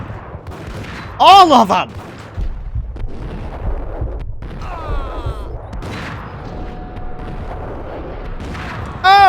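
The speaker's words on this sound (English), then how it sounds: "I'm gonna switch to the shotgun, because a lot of the guys in this level have shotguns" Shotgun blasts and gunfire in the Max Payne video game, a few loud, sharp booms with ringing tails over background game sound, with someone shouting briefly between shots.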